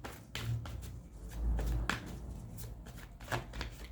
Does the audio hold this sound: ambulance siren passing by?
no